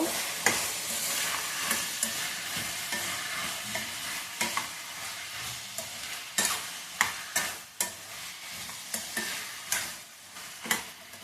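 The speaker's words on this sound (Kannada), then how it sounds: "ಒಂದು ಐದು ಹಸಿ ಮೆಣಸಿನ್ಕಾಯಿ ಹಾಕ್ಕೊತಾ ಇದ್ದೀನಿ ಒಂದು ಹತ್ತರಿಂದ ಹತ್ತು ಗೋಳಂಬಿ ಹಾಕ್ಕೊತಾ ಇದ್ದೀನಿ ಎಲ್ಲ ಚೆನ್ನಾಗಿ ಫ್ರೈ ಮಾಡಬೇಕು" Green chillies and cashews fry in a pan for a soya gravy, with a steady sizzle broken by repeated sharp scraping stirs of a spatula, close and fairly loud, no voices.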